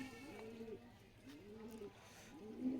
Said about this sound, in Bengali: এই যে এটা কিন্তু আমার একটা বাচ্চা কবুতর